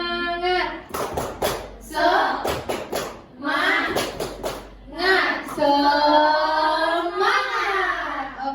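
A grade 5 class of children performs the 'tepuk semangat' clap chant, sharp rhythmic hand claps alternating with loud chanted voices in a classroom, close and lively.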